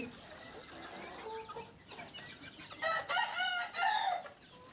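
Caged desi chickens and roosters cluck nearby during morning feeding, with scattered clucks early on and loud, drawn-out crowing calls in the second half.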